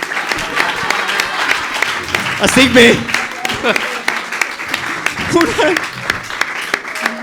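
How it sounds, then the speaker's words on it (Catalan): A live studio audience applauds for a comedy show's guest marking one year since a breakup, the clapping continuous and fairly loud while someone talks over it throughout. "Un aplaudiment"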